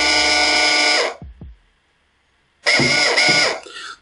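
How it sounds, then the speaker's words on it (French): An electric linear actuator on a 12 volt supply, its DC motor driving the stroke, whirs loudly for about a second, stops briefly, then runs again in another steady whining burst of similar length. "Voilà, donc là, c'est le déplacement de l'actionneur."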